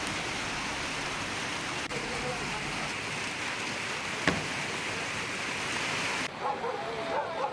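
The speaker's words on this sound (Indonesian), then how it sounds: "Arus deras langsung menghantam permukiman warga di Kecamatan Tuka" A flash flood torrent surges through a village in Tuka district, Tapanuli Tengah, after heavy rain, roaring as a steady dense wash of rushing water with a brief thump partway through and a shift in tone near the end.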